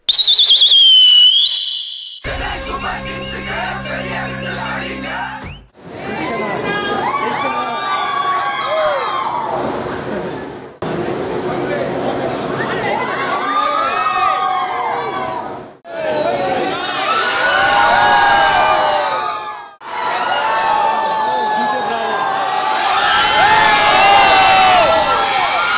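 Dense crowd of cricket fans at a hotel awaiting the CSK team bus before the 2023 IPL final, cheering, shouting and blowing whistles continuously, loud and close, in several long surges with short breaks.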